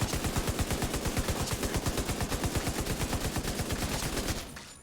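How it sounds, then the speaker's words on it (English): A Berserk LMG in The Division 2 fires a long sustained burst, a rapid steady rattle of rounds at an even pace that cuts off near the end, with no talk. "giving this new Berserk LMG a try. You'll see here, it just shreds these targets"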